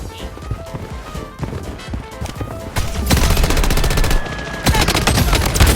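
Rapid automatic gunfire from a Blood Strike first-person shooter match, dense bursts growing louder and nearly continuous in the second half, with faint game effects underneath.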